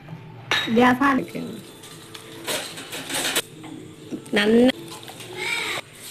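A spoon scrapes and clinks against a pot while chicken mandi marinade is mixed, in close irregular bursts, with a voice speaking and birds cooing faintly in the background.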